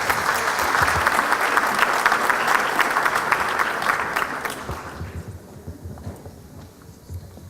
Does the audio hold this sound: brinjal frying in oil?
no